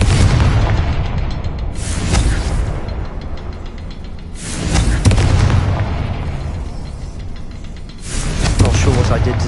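Confringo fire spell explosions in Hogwarts Legacy, three loud booming blasts spaced a few seconds apart, each with a sharp attack and a rumbling decay.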